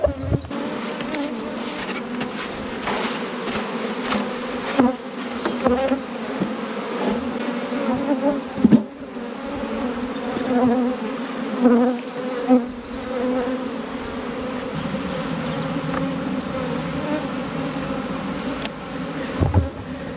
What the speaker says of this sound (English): I'm just going to shake these bees now out of this into there